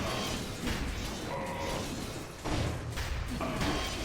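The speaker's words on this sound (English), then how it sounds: "The explosions got me." Dull explosion thuds and crashes from the roguelike action video game Dead Cells, a few heavy bursts and impacts sounding loud and close over a busy, dense game mix.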